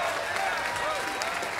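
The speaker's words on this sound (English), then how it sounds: "here's the applause when Schneider says he supports gay marriage" A live audience at a Rob Schneider comedy special breaks into a short, dense burst of applause, steady clapping filling the room for under two seconds.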